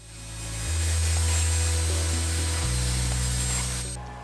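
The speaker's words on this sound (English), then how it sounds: "I found that using a jigsaw was a lot more practical for this step." A jigsaw cuts holes in wooden pieces for a homemade box hockey game. It runs loud and steady for about three seconds, drops briefly in pitch partway through, then spins down, with no talking.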